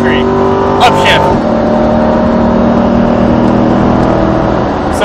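A race car engine at full power accelerating along the Speedvegas track, loud and close, with a sustained harmonic drone and an upshift partway through, while a driving coach talks over it.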